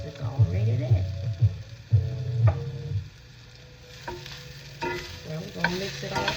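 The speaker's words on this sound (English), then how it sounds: "I like to mix it all in the pan since it's already there" Tofu and green onions sizzle steadily in a hot pan as a utensil stirs and scrapes through them. Clicks and knocks come at intervals over the frying, and there is some talk in the background.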